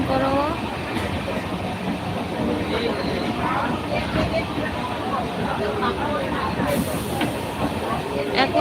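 Steady low rumble and hiss of a moving train carriage, with faint voices chattering in the background throughout.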